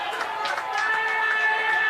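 Burnside rugby union crowd at a Premier Grade match against Brighton, cheering and chattering after a try scored in the corner, a steady broad roar that lifts slightly partway through.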